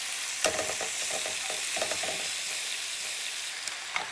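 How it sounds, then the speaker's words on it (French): Beef strips fry in a little canola oil in a large non-stick skillet with a soft, steady sizzle, punctuated by a few sharp utensil clicks and scrapes near the start and end. "on va faire cuire les lanières de bœuf jusqu'à ce que le bœuf soit bien doré"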